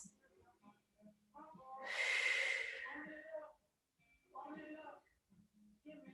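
Slow, deep breathing during a stretching exercise, with one long breathy exhale and a softer second breath, close and quiet, among faint talk.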